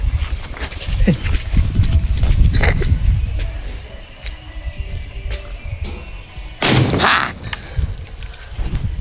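Firecrackers bursting at a village wedding celebration in Gujarat, with loud sharp cracks scattered through the clip, the strongest burst near the end, over steady crowd noise and talk.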